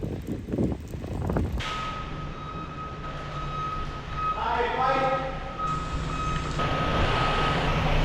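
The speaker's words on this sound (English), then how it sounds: "Get lorry driver reversed in here." A lorry reversing into a farm shed, its steady reversing beeps repeating clearly over engine rumble and wind noise, with a brief clatter at the start.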